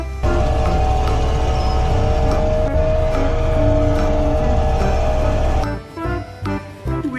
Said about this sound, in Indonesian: Wow, di sini ada mobil kompaktor.